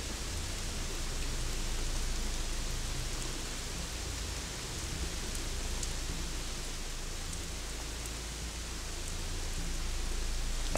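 Steady, dense rainfall in the video game Gothic 3 hisses evenly throughout, with a low rumbling undertone and no voices.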